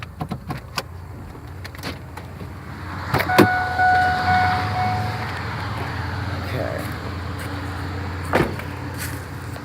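A person climbs out of a car parked in a leafy forest, with a short clunk, a brief whir and rustling movement over a low idling rumble. A voice speaks near the start and end.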